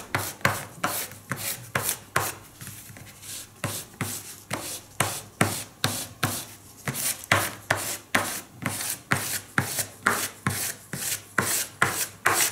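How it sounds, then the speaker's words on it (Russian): A stick of charcoal is scrubbed back and forth over the back of a paper sketch, making a fast, steady run of dry scratchy strokes up close, with no talking. "берем уголь и с обратной стороны мы покрываем, закрываем все это углем"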